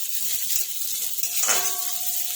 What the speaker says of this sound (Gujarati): હવે જે લીલી ડુંગળી આવે છે ને એનો આગળનો વ્હાઈટ ભાગ એડ કરીશું અંદર એને બી શેકી લઈશું